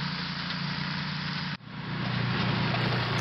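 A flail mower mounted on a quad ATV drones steadily, dips sharply for a moment midway, then builds back up to a full, even engine roar.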